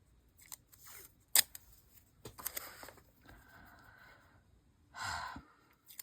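Scissors snip through art journal paper in a few sharp, close cuts, mixed with soft breaths and small handling rustles in a quiet room.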